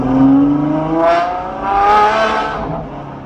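A luxury car's exhaust revving in manual mode: a loud, close engine note surges up in pitch twice in quick succession, then eases off, with no talk over it.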